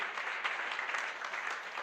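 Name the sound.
congregation applauding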